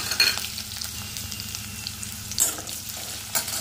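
Onions, green chilies and curry leaves fry with mustard seeds in a pan for a mushroom curry tempering, giving a soft, steady sizzle with a few sharp stirring clicks.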